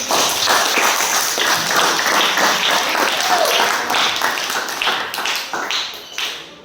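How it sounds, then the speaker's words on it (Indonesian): Classroom applause as students clap together, a loud cluster of close, distinct hand claps with a rhythmic, partly synchronized pattern that thins out and trails off toward the end. "kita beri tepuk tangan kami"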